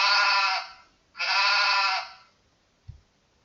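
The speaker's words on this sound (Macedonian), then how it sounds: "Да слушнеме како се јавува овцата." Two drawn-out, tremulous sheep bleats follow one another closely, loud and near, then fade into quiet broken only by a single soft thump.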